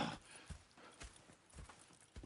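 Horse hooves clip-clop at a walking pace in the Red Dead Redemption 2 video game, soft, evenly spaced thuds heard faintly, with no talking.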